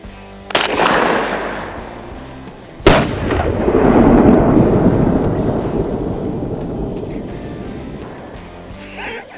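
IWI Tavor TS-12 shotgun fired at a bottle outdoors: two sharp, loud blasts a couple of seconds apart, each followed by a long booming rumble that rolls away, with a third softer pop at the end.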